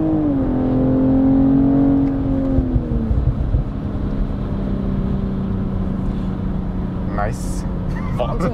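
A BMW M440i xDrive Gran Coupé engine revs up and pulls through a held gear, heard from inside the car as a loud, rising drone that settles into a steady hum, while people talk over it.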